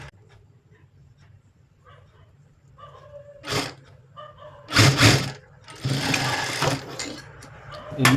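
Domestic sewing machine stitching a blouse seam, running in a few short bursts that grow louder and longer toward the end, with faint background sounds and no speech.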